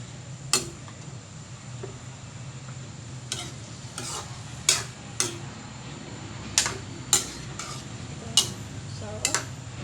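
Pechay Baguio vegetables being stir-fried in a pan, with a steady low sizzle under repeated sharp clinks and scrapes of a utensil against the pan at irregular intervals, close and clear, no voices.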